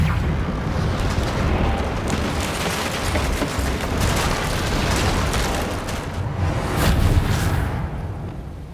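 Hogwarts Legacy's Reparo repair spell, a steady roaring, crackling rush of magical energy that swells and surges for several seconds, loud with no talking.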